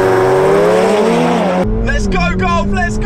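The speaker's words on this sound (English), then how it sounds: "Golf R versus 720S" A modified VW Golf R with 414 bhp races a 710 bhp McLaren 720S, engines roaring loud and close through rising gear pulls, then cutting abruptly to another screaming run, with voices underneath.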